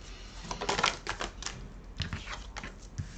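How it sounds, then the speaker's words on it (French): Oracle cards of the Oracle des Miroirs shuffled and drawn by hand, a run of crisp papery flicks and taps, close and fairly quiet, with no talking. "on va tirer quelques cartes de l'oracle des miroirs"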